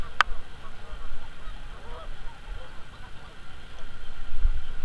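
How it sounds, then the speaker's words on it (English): Many lesser Canada geese honk and call from a distance during spring migration, a low, continuous chorus over faint background rumble and wind. "almost that whole carpet of geese out there is all lessers, all the lesser Canadian geese"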